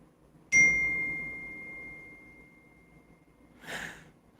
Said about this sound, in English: It's a lot of noise going on my phone.